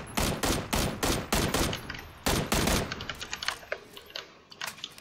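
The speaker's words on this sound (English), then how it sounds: "there are shots coming from that direction" Video game gunfire crackles in sharp bursts, a rapid volley of loud shots followed by scattered fainter pops trailing off, with no talking over it.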